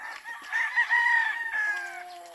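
A single chicken gives a drawn-out, wavering call close by, rising and then trailing off, with nothing else around it.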